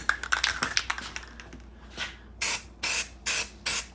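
A spray gun lays a single coat of paint on a Honda Accord body being rebuilt, with four distinct close hissing bursts following some faint clicking and handling noise.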